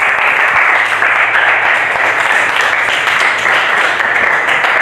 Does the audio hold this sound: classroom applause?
yes